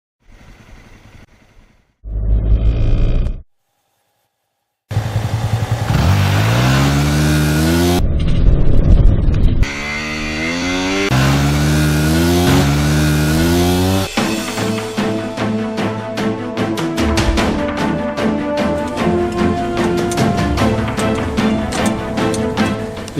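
A Hyundai car and a Yamaha motorbike race off-road through the bush. Engines rev loudly in repeated rising sweeps, with a short burst and a silent gap first, then a dense, sustained roar of engine noise.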